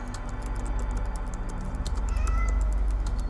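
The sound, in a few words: cat meowing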